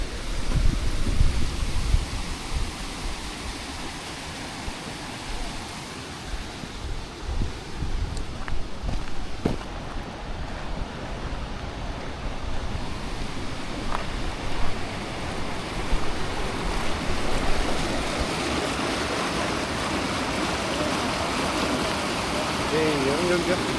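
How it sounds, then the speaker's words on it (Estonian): Water rushes steadily through an opened sluice gate at a small dam near Sigulda, Latvia, a loud broad roar with wind buffeting the microphone throughout. "Siit saab väravad avada ja siis siit vesi voolab edasi."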